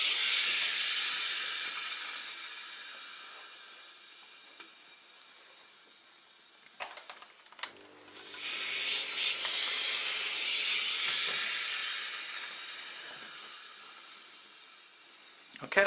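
A steam iron presses the hem of denim jeans with a sustained hiss of steam that swells, breaks off briefly with a few clicks and thuds, then rises again and fades.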